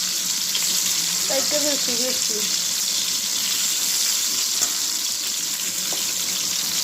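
Eggplant slices frying in hot oil in a home kitchen make a steady, close hiss and sizzle that runs throughout, with a short stretch of speech partway in.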